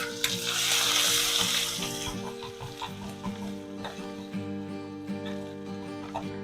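Garlic (7 to 8 cloves), a 2-inch piece of ginger and one hot green chili sauté in a pan, starting with a loud, close sizzle that softens after a couple of seconds and continues under a steady tonal hum.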